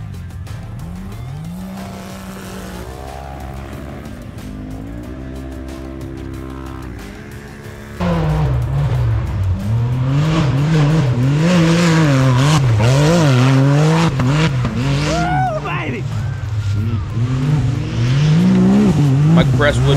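UTV side-by-side race vehicles in a MidEast Racing event at Deer Haven: loud, steady engine roar with rising and falling revs that swell louder partway through, with talk over the top.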